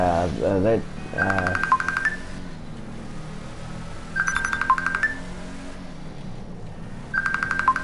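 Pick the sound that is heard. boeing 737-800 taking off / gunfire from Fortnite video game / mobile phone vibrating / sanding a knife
mobile phone vibrating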